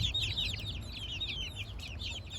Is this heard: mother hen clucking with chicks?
yes